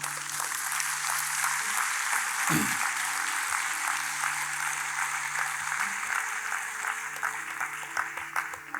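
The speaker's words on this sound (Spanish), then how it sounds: "denle un fuerte aplauso al Señor" Applause from a church congregation fills the space steadily and densely throughout, with faint tonal hum and a brief low thump partway through.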